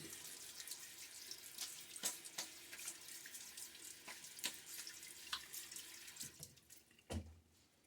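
A bathroom tap runs steadily into a sink to rinse a Gillette Nacet safety razor on a Karve brass handle, a continuous close hiss of water broken by a few splashes, ending with a brief louder splash as it stops.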